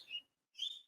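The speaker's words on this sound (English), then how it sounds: "can you hear those birds?" Two short, high bird chirps from Australian birds, separated by a brief silence, faint and clear with no other sound.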